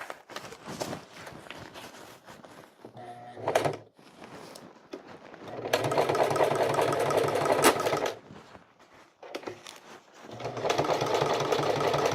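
A sewing machine stitches a fanny pack made from an Eagle Industries USMC assault pouch, running in loud steady bursts with short pauses and handling clatter between runs.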